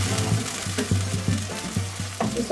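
Potatoes and peas sautéing in a pan for a potato peas curry, a steady close sizzle with repeated soft scraping strokes of a spoon at a regular rhythm over a low hum.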